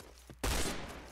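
Gunfire from the video game Point Blank, a single abrupt, loud burst of shots that cuts in partway through and rings out briefly afterward.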